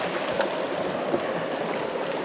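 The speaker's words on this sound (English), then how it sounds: "Oh yeah, there's a spring there." Water from a hot spring beside a bridge in Idaho flows and gurgles steadily nearby, a continuous wash with small bubbling bursts and no talk.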